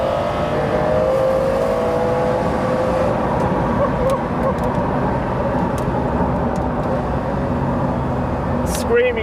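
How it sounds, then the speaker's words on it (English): A Ferrari GT engine screams and revs loudly and close by, its drone holding steady with slight pitch shifts, while voices seem to carry on beneath it. "screaming engine in the Ferrari GT is just sensational"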